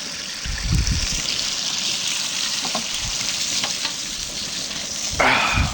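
Frank's hot sauce and butter heating in a pan on the stove give off a steady, close sizzle with a few soft clinks and a brief louder crackle near the end, with no talk.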